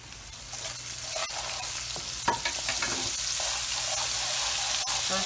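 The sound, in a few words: chicken mince frying and stirred with spices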